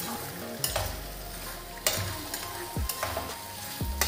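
Crab is stirred into a frying spice gravy in a pan. A steady sizzle runs throughout, and a few scraping strokes of a spoon stand out above it, close and clear, with no talk.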